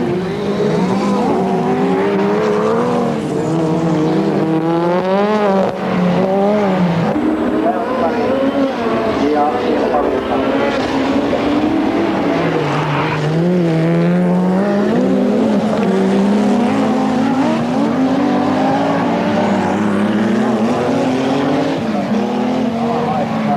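Division 1 final A starting at the 1986 European Rallycross Championship: a pack of race car engines roars and revs continuously and loudly throughout, with a commentator talking over the engines.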